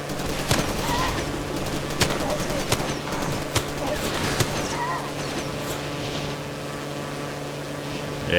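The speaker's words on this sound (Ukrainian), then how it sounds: "А вони ще й стріляють." Enemy gunfire in Far Cry 2 crackles as a string of sharp, separate shots spaced about a second apart, cutting over the steady drone of a boat engine on the water.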